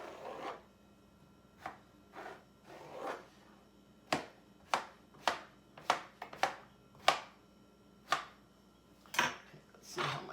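A knife chops yellow squash into pieces for a casserole, giving about a dozen crisp, separate cuts that speed up midway, close and fairly loud with no voices.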